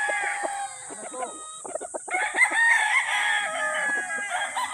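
A large rooster of pure Sweater bloodline on a farm clucks and calls repeatedly, loud and close, with a longer crowing cry midway and faint farm background.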